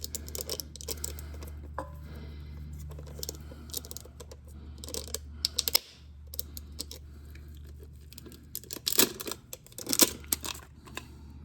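Crinkly tearing and scattered crisp crackles as plastic packaging is peeled off a new oil filter for a 2025 Toyota Camry oil change, close and fairly quiet over a low steady hum.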